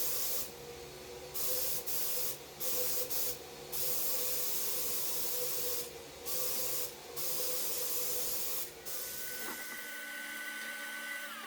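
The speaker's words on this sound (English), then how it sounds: "Here I'm spraying the speaker grille frames with flat black paint." Flat black spray paint hissing from an aerosol can onto speaker grille frames for Pioneer HPM-100 speakers, in repeated bursts of varying length separated by short pauses, followed by a quieter steady hum.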